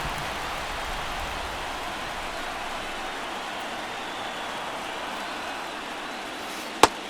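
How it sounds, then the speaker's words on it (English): Steady rain pours down on a baseball field in MLB The Show, a constant even hiss of falling water that runs throughout, broken only by a single sharp click near the end. "This rain is not letting up."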